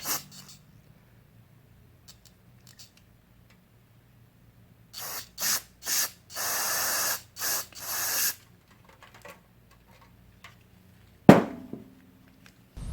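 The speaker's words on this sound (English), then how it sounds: "try and blow out the brass filings" Short bursts of compressed air blast brass filings out of a lawn mower carburetor, several hissing puffs of varying length close to the microphone, then a sharp clack of a part being handled, no talking.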